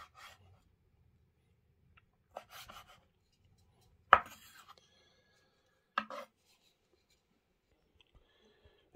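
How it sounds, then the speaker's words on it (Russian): A knife cuts green onion finely on a board with a few scattered, sharp strikes and soft scraping between them. The cutting is quiet and close, with no voices. "Так, режем, значит, мелко зеленый лучок."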